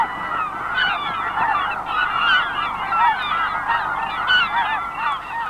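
Snow geese honking at their nesting grounds, a dense chorus of overlapping nasal honks at steady loudness, with many birds calling at once and no voices.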